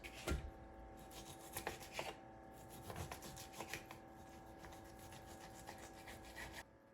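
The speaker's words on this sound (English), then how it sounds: "What I will do is cut this into small pieces." A knife cuts boneless top round steak (London broil) into small pieces, making quiet, repeated rasping strokes against a board, faint and close with no talking.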